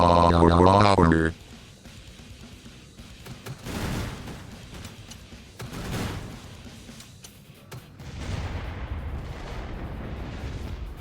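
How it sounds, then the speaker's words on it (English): Bombing explosions in the zombie shooter Killing Floor 2 roll out as a few heavy, broad blasts spaced a couple of seconds apart, followed by a sustained rumbling barrage, with a synthetic voice speaking briefly at the start. "I'm liking this bombing shit when we do the bombing on those Zeds"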